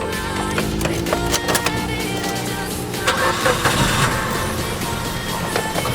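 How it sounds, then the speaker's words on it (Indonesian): A 2015 Suzuki Karimun Wagon R GS engine cranks and catches, then settles into a steady, close rumble with some rattling clicks throughout. "kita coba start mesinnya"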